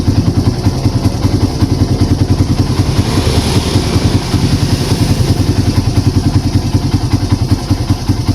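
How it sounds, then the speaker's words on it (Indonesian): A fuel-injected Honda motorcycle engine with a fault that makes it stumble and die, running steadily and loudly up close in a workshop, with a constant mechanical clatter throughout. "Oke. Jadi ini menyala ya."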